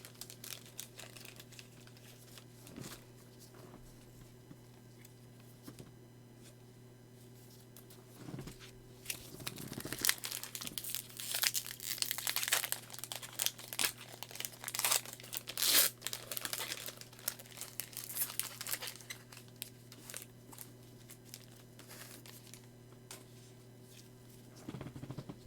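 Foil wrappers of Pokemon Celebrations card packs crinkle and tear in bursts, with denser rustling in the middle stretch over a steady low electrical hum.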